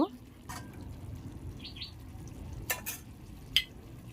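Sugar is stirred into chicken masala frying in a pan, giving faint soft scraping and a low sizzle with a few light clinks of the spoon.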